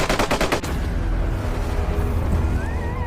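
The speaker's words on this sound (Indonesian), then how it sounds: "Walaupun diberondong ratusan peluru dan juga dikejar anjing pelacak, Atami tetap sulit untuk dibunuh." Machine gun fire in a film: a rapid burst of loud automatic shots at the start, then a dense, continuous roar of gunfire and rumble that sustains for a few seconds, with no talk over it.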